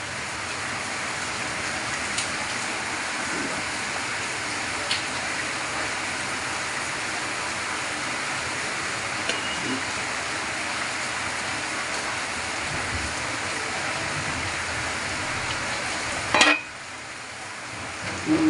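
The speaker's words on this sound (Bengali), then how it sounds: "ঝোলটা প্রায় ফুটে উঠেছে, আর একটু ফুটুক।" Pangasius fish curry gravy simmering in a pan, a steady broadband bubbling hiss that runs evenly for most of the clip, with a brief clatter near the end before it quietens.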